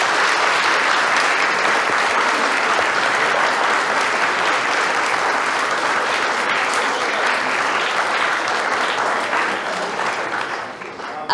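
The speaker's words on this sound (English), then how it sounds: "And one more round of applause." An academic roundtable audience at a university board of governors event gives a sustained round of applause, dense and even for about ten seconds before thinning out near the end.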